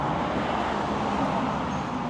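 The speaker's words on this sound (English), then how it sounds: "You can hear the traffic now, this bloody crazy road." Busy road traffic on a roadside near a hotel in Rainhill, a continuous loud wash of passing vehicles with a steady low rumble and no clear gaps, with no voices.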